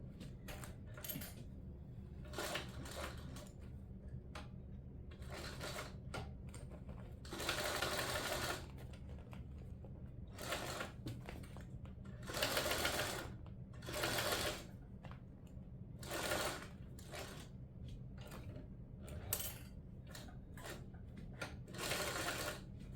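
A sewing machine stitches fabric for a garment lining in repeated bursts of fast, rattling needle runs separated by short pauses, fairly close, with a steady low hum underneath.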